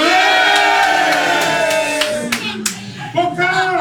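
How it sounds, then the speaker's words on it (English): A live rugby show audience roars and claps in a loud, sustained crowd cheer with scattered clapping, fading toward the end as a few voices call out. "Should we have a quick straw poll? Hands up or give us a cheer if you are South African."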